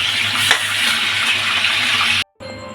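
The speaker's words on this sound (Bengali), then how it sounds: "আলুগুলো ভাজা হয়ে গেছে লাল লাল করে এবার তুলে নিই" Potatoes fry in hot oil for biryani, a loud, dense, continuous sizzle that cuts off abruptly near the end, followed by a brief quieter tail with no talk.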